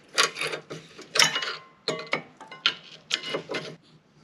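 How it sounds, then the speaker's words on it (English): A flathead screwdriver pries the small metal clips off the rear brakes of a 2011-2017 Nissan Juke. Close, rapid metallic clicks, scrapes and rattles come in short bursts with no talk. "Use a flathead, pop these little metal clips out."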